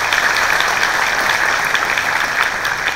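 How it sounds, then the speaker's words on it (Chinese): An audience at a corporate presentation claps loudly and continuously, a dense wash of many hands that fills the whole moment with no talking over it. "所以要不要给艾多美公司一个热烈掌声？"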